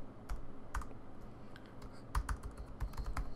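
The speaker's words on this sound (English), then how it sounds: "if I can type that right" Steady typing on a computer keyboard while writing .NET Core code, irregular clusters of close, sharp key clicks throughout with no voices.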